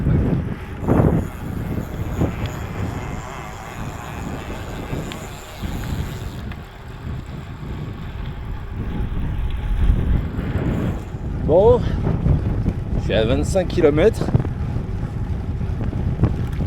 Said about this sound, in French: J'ai un vent latéral qui est bien fort, 25-30 km/h.